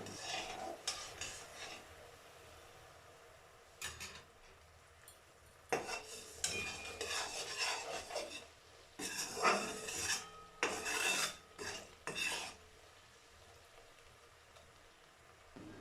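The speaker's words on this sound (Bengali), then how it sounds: "খুব ভালোভাবে এটা নাড়াচাড়া করতে থাকবেন না হলে নিচে লেগে যাওয়ার সম্ভাবনা খুব বেশি" A spoon scrapes and stirs a pan of boiling sugar-and-water syrup for sweet goja, making intermittent close scraping and rubbing bursts against the pan with quiet gaps between and no talking.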